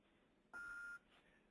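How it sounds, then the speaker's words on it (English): A single electronic prompt beep from a voice-command device, a steady pure tone lasting about half a second, fairly loud against a quiet room background with no talking. "Say a command after the beep."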